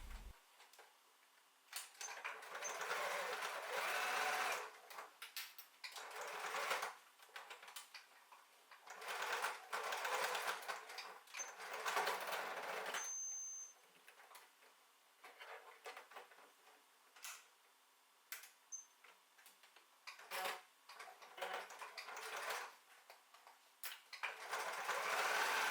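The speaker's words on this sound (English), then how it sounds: "sew the open gap closed, making sure to backstitch at the start, the middle to secure the zipper" A sewing machine stitches a zipper pouch seam closed, running in short close bursts with brief pauses between them and a steady mechanical clatter while it runs.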